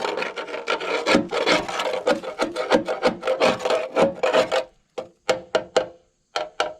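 A pry bar scrapes a GMC truck's metal frame in rapid repeated strokes, harsh, loud and close, ending in a few short separate scrapes with pauses between.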